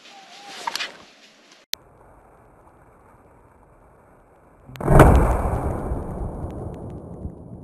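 A single loud rifle shot, fired at a small 20 kg roe deer buck during a driven boar hunt in woodland, breaks a quiet stretch and rolls away in a long fading echo, after faint earlier rustles and a click.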